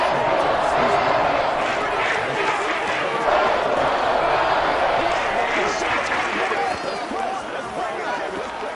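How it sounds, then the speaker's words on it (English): A football stadium crowd roars in a dense, continuous wash of cheering and noise during a Bills at Lions game, with a commentator's voice talking over it. "the crowd getting into it"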